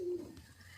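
Giribaz and Madras pigeons kept for sale give a brief, soft, low coo nearby, fading quickly into quiet background.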